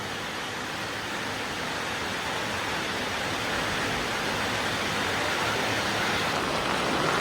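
Heavy rain falls outdoors as a dense, continuous broadband roar that holds steady and slowly swells slightly louder, with no voices.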